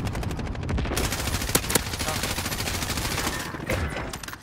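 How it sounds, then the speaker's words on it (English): Sustained automatic gunfire from a Call of Duty Modern Warfare match, dense rapid bursts filling the whole stretch with a few sharper loud cracks, loud and close, with faint voices mixed in underneath. "Every one of my shots were hitting him, but he didn't die."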